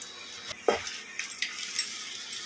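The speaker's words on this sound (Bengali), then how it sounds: "সম্পূর্ণ জিনিসটা খুব ভালো করে নাড়াচাড়া করে বেশ একটু চালটা ভেজে নিচ্ছি" Rice frying with ginger paste in a pan while being stirred, with several light scrapes and clinks of a spoon against the metal over a faint sizzle, close by and without speech.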